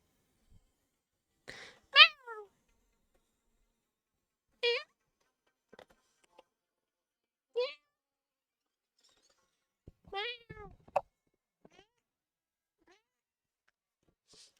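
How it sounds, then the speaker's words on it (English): A pet cat meows several times at spaced intervals in a quiet room, each meow short and fairly faint, with a couple of soft clicks between them. "I'm always trying to get her meows on the mic so you guys can hear her meowing."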